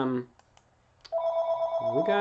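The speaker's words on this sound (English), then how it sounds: "the phone ringing." A telephone rings with a steady electronic tone that starts partway through, preceded by a brief burst of talk and a couple of faint clicks, close and clear.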